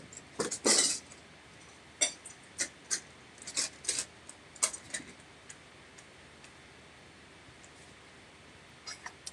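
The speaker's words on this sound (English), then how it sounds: "I have all these little trays everywhere, and they make a lot of noise." Small trading-card trays clink and tick against each other, with a burst of loud clatter at the start followed by a string of light, irregular taps that fade toward the end.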